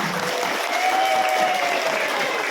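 Loud, dense applause from a church audience at a Christmas service choir contest award ceremony, a steady roar of many hands clapping with a faint tone ringing through it.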